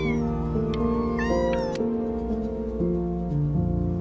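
A cat meows repeatedly in the video game Before Your Eyes, clear mid-pitched calls over a sustained musical backdrop, with no voices present.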